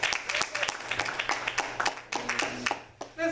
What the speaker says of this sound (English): please let's give Sister Alexis a hand clap as she comes